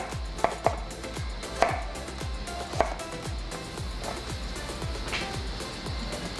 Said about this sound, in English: And then you're getting it to a fine julienne.